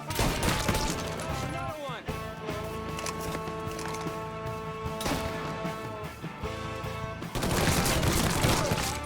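Gunfire from the game Mafia III: rapid bursts and single shots crack repeatedly, loud and close, with sharp impacts and crashes, a brief lull in the middle and heavy firing again at the end, while voices shout over the fight.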